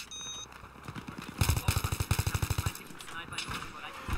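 Automatic weapon fire in the shooter game Battlefield 3, a rapid burst of evenly spaced shots rattling for over a second, with a few lone shots before and after, over faint background game noise.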